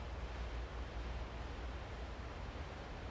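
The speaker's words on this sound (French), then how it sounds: "On entend les vagues." Sea waves wash beside an aircraft carrier at sea, a faint, steady broadband rush with low rumble and no voices.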